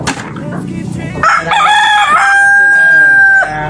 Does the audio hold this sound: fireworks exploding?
no